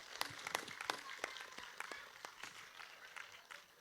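Scattered clapping from an audience at an Indonesian religious talk, light and uneven with sharp individual claps over a few seconds, fairly faint.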